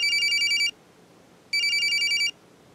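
A telephone rings twice with a bright trilling electronic tone, each ring lasting under a second and separated by a short quiet gap, clear and close with no voices.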